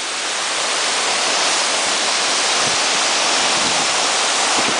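A waterfall roars in a wet, rocky outdoor spot, a steady, loud, broadband rush of falling water with no break, heard close up and alone.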